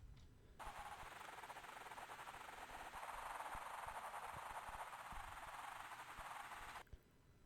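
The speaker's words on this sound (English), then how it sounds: "Really all that is it is a phase plant patch with white noise." Synthesized white noise background, a steady airy hiss shaped by a phaser and a sweeping notch filter, starting abruptly and cutting off after about six seconds, quiet and with nothing else playing.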